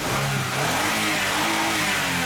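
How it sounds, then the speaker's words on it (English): A Toyota Avalon engine with a misfire revs steadily up and holds at a loud, rough, continuous pitch, heard up close with no talking. "based on how this engine revs up"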